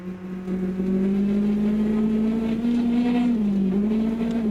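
Car engine in the Mon Bazou video game, fitted with a manual transmission, holding a loud, steady drone with a slight rise and dip in pitch, heard alone at close range.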